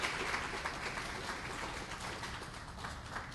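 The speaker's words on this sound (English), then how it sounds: "if we could have a round of applause for Dr." Dense audience applause in a hall for Dr. Brainerd at an address by Justice Leah Ward Sears, a continuous, even crackle of many hands clapping at once, fairly loud and without pause.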